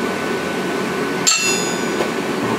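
A hammer strikes a hot cut top tool set on hot H13 tool steel, one sharp ringing metallic blow with a lingering tone, then a fainter second hit, close up against a steady background roar.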